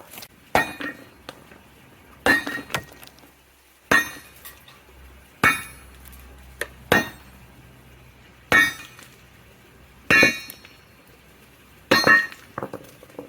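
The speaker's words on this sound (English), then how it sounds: "We're gonna hit it with the sledgehammer anyway and break it up." A sledgehammer strikes roasted alluvial ore rocks in about nine sharp, separate cracking blows spaced a second or two apart, each with a brittle, clinking break and short ring-off between hits.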